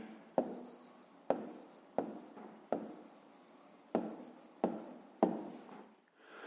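Pen writing down an answer on paper, a series of six or seven short scratchy strokes with sharp starts, close and quiet with no talk.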